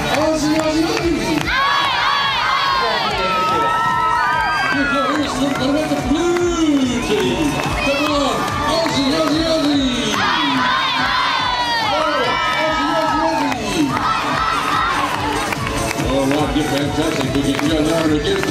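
A crowd of children and adults at the Perth Royal Show cheers and shouts loudly and continuously in rising and falling waves of excited voices, with a rhythmic chant running through the noise.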